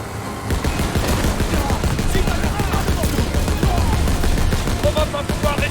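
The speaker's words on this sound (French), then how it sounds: "Je me mets à la mitrailleuse!" Rapid machine gun fire in the Call of Duty WWII mission Operation Cobra, a loud continuous burst of rattling shots with dense impacts throughout, joined by scattered battle noise and faint voices.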